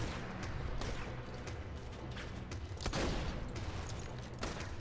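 Gunfire and explosions from the video game Borderlands 2 crackle in rapid bursts, with sharp blasts over a constant low rumble, fairly faint and without speech.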